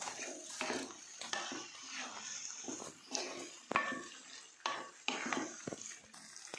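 A spoon stirs and mixes baked beans in a metal pot for a macaroni hotpot, giving soft scraping, sloshing and occasional clinks against the sides, with uneven bursts and a few sharper knocks, close and moderately loud.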